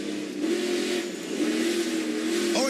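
Race truck engines roaring at the Eldora dirt track, a steady, fairly loud drone of several engines running nose to tail with slight pitch rises, heard from a distance without commentary.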